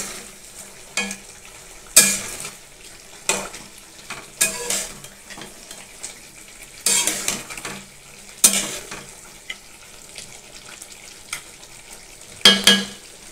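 Chicken is stir-fried down for kosha in a pan, quiet background sizzle broken by repeated bursts of spatula scraping and stirring at irregular intervals.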